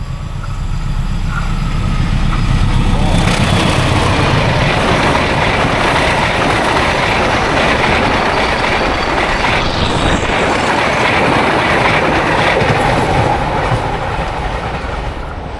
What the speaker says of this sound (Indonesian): Kita lihat kereta dulu.